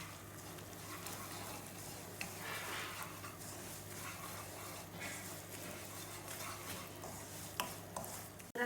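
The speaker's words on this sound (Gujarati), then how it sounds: "આને હલાવ્યા કરવાનું, નકર નીચે બેસી જાય કે લાલ" Semolina roasting in ghee in a pan on high heat, with soft continuous scraping and stirring strokes and a faint sizzle, quiet and close with occasional utensil clicks.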